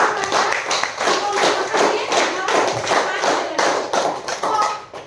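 Audience applause at a company profile presentation, a burst of clapping that stays fairly loud and steady for several seconds, with voices mixed in.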